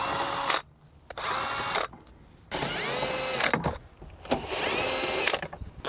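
A power tool removes four 10mm bolts inside a Toyota GR86, giving four close, loud whirring bursts of about a second each, separated by short quiet gaps, with no talk.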